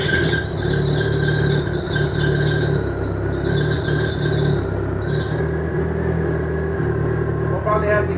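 Car engine running right after an ignition coil swap on an aftermarket harness, a steady loud idle with a high squealing whine and constant engine rumble throughout, with someone talking over it.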